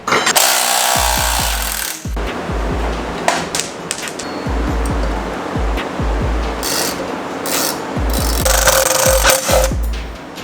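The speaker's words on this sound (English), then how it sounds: "then we can bolt this onto the bracket" A brake conversion bracket bolted onto a 420cc FRP mini bike with a Rhino big brake kit, loud repeated bursts of an impact wrench hammering close by, broken by short pauses.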